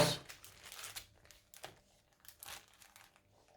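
A sheet of sequin stickers handled close up, with soft crinkling and rustling of plastic in short irregular bursts, faint and alone.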